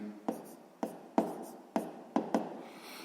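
A pen scratches out a math solution by hand in short, close strokes, about six quick scribbles with brief pauses between them.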